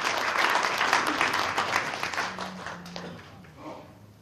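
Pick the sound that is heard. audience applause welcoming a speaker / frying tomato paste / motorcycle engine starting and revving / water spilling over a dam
audience applause welcoming a speaker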